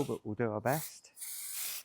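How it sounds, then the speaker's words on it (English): Black spray paint hisses from an aerosol can in a basement, aimed upward from below; someone speaks briefly, then a steady close hiss runs for under a second. "Important with the black that we're spraying from below because we're low lighting it right now."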